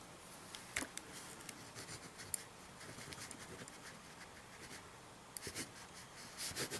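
A ballpoint pen scratches across the page of a cheap notebook in soft, intermittent strokes, faint and close with quiet pauses between bursts of writing.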